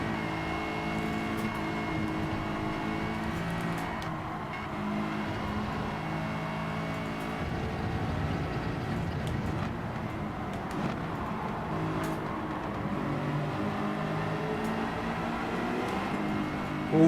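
Race car engine from the Gran Turismo 7 video game, droning steadily and loudly at high revs through a drift late in a race, with no talk over it.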